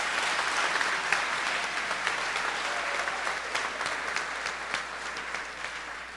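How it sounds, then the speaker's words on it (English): Sustained audience applause at a valor tribute ceremony, dense steady clapping from a sizeable crowd filling the whole span at even loudness with no talk. "How about another round of applause for Phil Vandal?"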